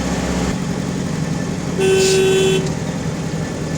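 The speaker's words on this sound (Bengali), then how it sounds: "অবশ্যই আপনি হর্ন দিবেন, 1 বার না, 2 বার না, 3 বার হর্ন দিবেন দরকার হলে" A car horn sounds in one steady, loud blast while overtaking on a highway, rising over the constant rumble of the moving vehicle and road noise.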